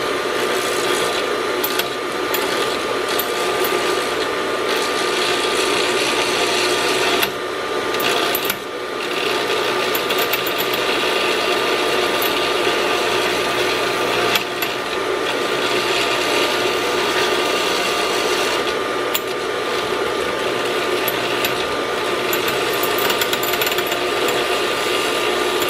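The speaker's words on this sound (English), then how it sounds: "I'm gonna turn the motor on, and then we'll take a file and see if I can take" A homemade 2x72 inch belt grinder motor runs with a loud steady whine while a file rasps a beveled edge on it, with brief breaks in the scraping.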